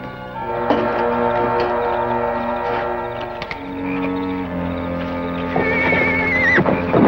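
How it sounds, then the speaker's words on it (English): Spooked horses in the 1800s Oklahoma Territory whinny in a shrill, falling neigh near the end, heard over a steady, sustained musical background with faint hoof clops. "A deer never spooked horses like that."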